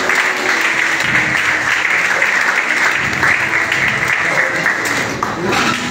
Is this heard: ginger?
no